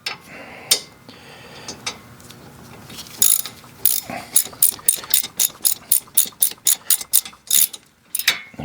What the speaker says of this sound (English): these need to be torqued down to 21 foot-pounds